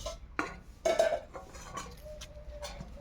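A metal pot lid is lifted and handled while rice cooks, a few clinking metallic knocks followed by a faint ringing tone and soft simmering in the background.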